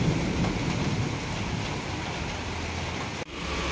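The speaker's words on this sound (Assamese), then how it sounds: "ধেত বৰ বেয়াকৈ বৰষুণডাল দিলে ৰে," Heavy rain falls in a steady, dense roar close by, loud and unbroken apart from a brief dip near the end, with no voices.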